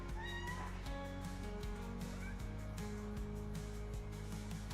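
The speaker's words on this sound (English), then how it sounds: "Is that why you're meowing?" A pet cat meows over steady background music and game sounds from a farming simulator stream, with a few short, faint mews scattered through the clip rather than one loud call.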